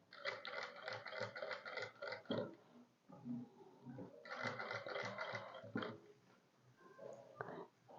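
A sewing machine stitches fabric for a sleeve design in quick rattling bursts, a few seconds of steady clatter, a pause, then another run, close and fairly quiet.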